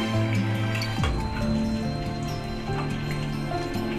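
Anchovies fry in hot oil as they are flipped, producing a dense crackling sizzle that continues steadily throughout, with a sustained tonal hum underneath.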